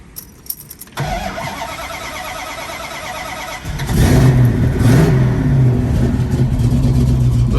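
A 1970 Dodge Challenger's 426 Hemi V8 engine cranks and catches, then settles into a loud, rumbling run with a deep throb, close up.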